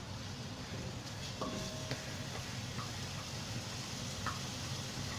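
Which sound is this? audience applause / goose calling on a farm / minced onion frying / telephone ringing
minced onion frying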